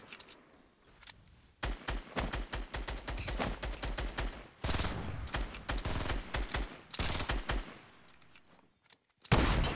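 Rapid bursts of gunfire from the battle royale video game Fortnite, loud, dense volleys and single shots stacking in clusters, with brief lulls between and a sharp final burst at the end.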